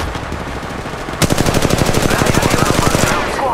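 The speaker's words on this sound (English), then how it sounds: "They're shooting at me." Rapid automatic gunfire from the Apex Legends Mobile battle royale game starts abruptly after a quiet opening and rattles in a fast, even burst of shots for about two seconds, loud and up close, then cuts off.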